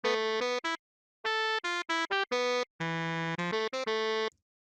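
A bright, buzzy synthetic saxophone tone plays a bouncy melody of short and held notes, thin and electronic like an old computer game.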